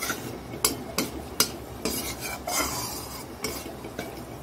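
Onions added to frying spices in a pan and stirred: repeated sharp scrapes and clinks of a spatula against metal, roughly every half second, over a low frying hiss, close and unaccompanied by talk.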